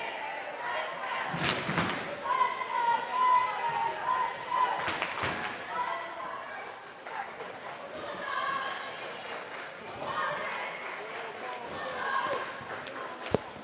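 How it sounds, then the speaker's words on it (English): High school cheerleaders at Waldron's girls' basketball game against Two Rivers chant in unison from a distance, rhythmic voices echoing in a gym, with crowd murmur, sharp ball bounces and a couple of loud thumps. "Waldron cheerleaders make a shot at their own with a cheer."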